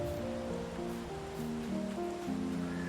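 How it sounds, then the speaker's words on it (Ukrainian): Steady rain hiss in the video game Farming Simulator 22 on a rainy morning, continuous and even under a soft tonal music bed, with no talking. "Можливо, перечекаю ось цю погану погоду, щоб дощ закінчився."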